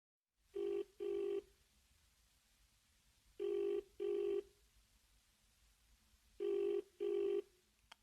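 A telephone rings in three double-ring bursts, clean and moderately loud, with quiet pauses between them and no talk over it.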